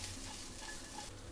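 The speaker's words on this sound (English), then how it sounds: "Oil in. Onion and garlic in. Mix this well a bit." Onion and garlic frying in hot oil while being stirred, a steady close sizzle with soft scraping from the stirring throughout.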